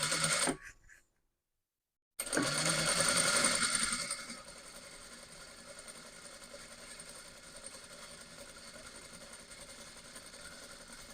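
A sewing machine stitches a blouse sleeve in short bursts of whirring, broken by a brief silence, then a louder run that settles into a quieter steady hum.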